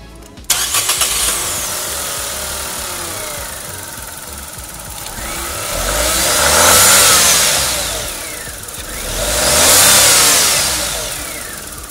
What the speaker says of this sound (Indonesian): Kalau yang kita narik dia tuh kayak kedengeran spooling